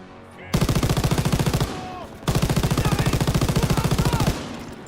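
Two long, rapid bursts of machine gun fire in the World War II shooter Call of Duty WWII, loud and close, each running for nearly two seconds with a brief pause between them.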